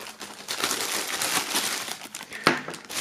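Plastic wrapping film crinkling close up while a Kontra K Vollmond album box is unboxed and the film is cut away, with steady crackling and a sharp snap near the end.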